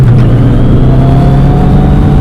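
A Kawasaki Z900 RS Cafe motorcycle revs hard in first gear, its loud, steady engine drone holding close and constant for a couple of seconds with no speech.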